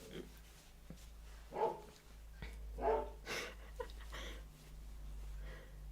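Dogs bark in a few separate, fairly distant bursts over a low steady hum indoors, with quiet whimpers between the barks and nobody speaking.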